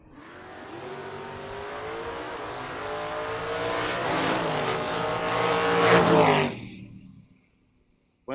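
A 1979 Ford Fiesta and a Ford Mustang launch side by side at a drag strip, engines building in a long rising roar that swells loud for about six seconds, then cuts off abruptly into silence.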